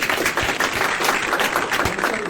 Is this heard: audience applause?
yes